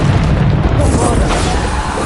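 A Bombarda spell detonates in Hogwarts Legacy as a loud, close, sustained booming blast that fills the whole short moment without a break.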